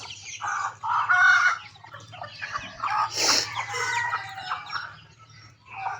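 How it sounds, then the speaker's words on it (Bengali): A red rooster with a black tail clucks and calls repeatedly at close range, with a short crow-like burst in the middle, over steady low background noise. "তো এই মোরগটা আমি কিনেছি লাল কালারের আর লেসটা হচ্ছে কালো"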